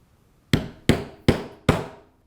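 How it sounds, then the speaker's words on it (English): Four sharp, evenly spaced hammer strikes drive a 1/8 inch drive punch through a leather strap, each a close, solid thwack with a short decaying ring and quiet between blows. "I'm going to grab my 1/8 inch drive punch and punch my rivet placement marks."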